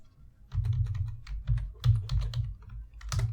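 Someone types on a computer keyboard at close range: a quick, irregular run of sharp key clicks with short pauses, and no voices.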